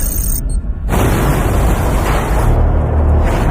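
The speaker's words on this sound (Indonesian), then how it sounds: "Setelah ledakan" A film explosion erupts in a dense, loud roar of broadband noise that swells suddenly and holds steady as a sustained rumbling blast, with no voices.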